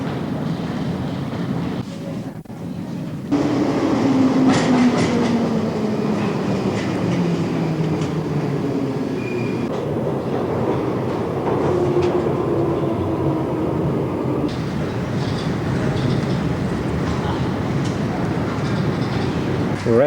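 London Underground train at Piccadilly Circus station in 1985, a loud steady rumble of the train running through the station with rising and falling motor whine, close and continuous.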